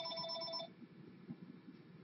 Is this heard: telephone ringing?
yes